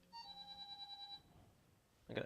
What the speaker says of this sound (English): I got a text message.